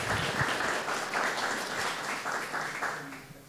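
Audience applause after thanks to the organizers at a Polish historical lecture event, a steady broadband patter of many hands clapping throughout, moderately loud and fading slightly near the end, with no talk over it.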